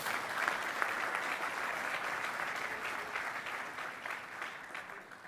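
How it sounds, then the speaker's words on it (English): A conference audience at the Land Forces Pacific (LANPAC) symposium gives the sponsors a sustained round of applause, dense and even, filling the room for several seconds before slowly tapering. "Let's give both sponsors a big round of applause."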